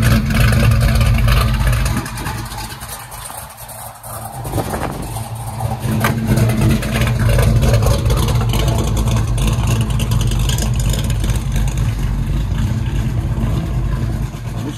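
A Chevrolet El Camino engine revs loudly and steadily up close, easing briefly in the middle before climbing back to a sustained roar, with the mechanic having just changed spark plugs to fix rough running.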